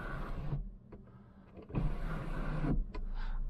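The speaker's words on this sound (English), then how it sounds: "has electronic windows, so my Corolla did not have that, and also electronic locks" Electric power windows on a Toyota Corolla with a sunroof and 5-speed manual whir as they run, two motor runs with a short pause between, close and fairly loud in the cabin.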